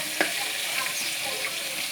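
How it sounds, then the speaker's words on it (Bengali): Pieces of fish frying in hot oil with a steady, dense sizzle all the way through and a few louder crackles and pops, close and fairly loud, with no voices. "এই যে ভাইয়া দেখে নেন আমার মাছগুলো এইভাবে ভেজে নেবেন"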